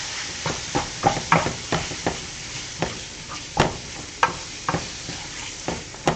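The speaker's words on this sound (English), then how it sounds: "Now, give it a stir." Seasoned ground beef sizzles steadily in a frying pan while a utensil stirs and scrapes through it, giving a run of sharp, close scraping strokes over a continuous frying hiss, with no talking.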